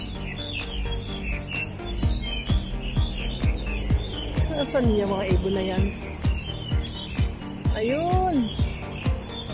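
Noisy birds chirping and calling overhead in a warm outdoor spot, a steady busy chorus of tweets with some louder rising calls, heard under a man's and others' talk.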